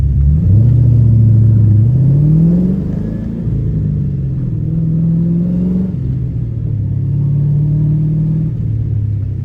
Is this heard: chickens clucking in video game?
no